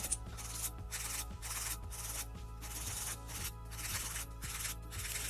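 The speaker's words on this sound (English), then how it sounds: "And then you want to file inwards." A nail file rasps rhythmically against a sculpted thumbnail in quick back-and-forth strokes, close and fairly loud, with regular brief pauses between strokes and no voices.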